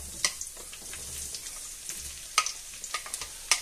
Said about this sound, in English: Okay, so the oil looks hot, so I'm going to add the veg to it.